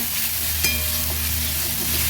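Ginger, garlic and onion paste frying in oil for a tengra fish curry gives a loud, continuous close sizzle with a low steady hum beneath and a single brief scrape partway through.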